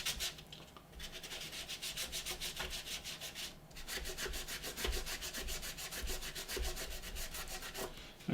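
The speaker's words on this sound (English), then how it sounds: "just give them a little bit of a rub round" A cloth rubs rapidly back and forth over the small guns of a Revell Star Destroyer plastic model, making a steady, raspy swishing rhythm close up with one brief pause partway through.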